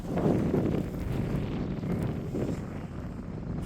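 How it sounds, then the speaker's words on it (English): Steady wind buffeting a microphone on a windy hilltop, a loud low rumble that roars throughout with gusty surges and no other sounds. "it's just constantly windy up here"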